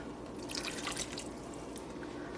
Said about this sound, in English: now I am going to pour my water in my ready container